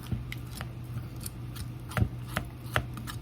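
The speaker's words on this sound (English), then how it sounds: "I'm going to stir, or at least try, because it was dry before and it's really dry now" Dry peanut butter oatmeal cookie dough stirred in a bowl, giving rough scraping and crunching strokes in an uneven rhythm, close and fairly quiet, no talking.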